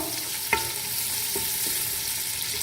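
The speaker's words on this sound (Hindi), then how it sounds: "ये दाल गोश्त के लिए प्याज़ों को इस तरह फ्राई करते हुए" Onions frying in oil in a pan for dal gosht, a steady soft sizzle running throughout with a few faint clinks of a utensil against the pan.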